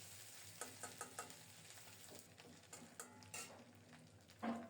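Dried fish (shutki) frying in hot oil over low heat, giving a faint, soft sizzle broken by a series of light scraping and clinking stirs against the pan, with no voices.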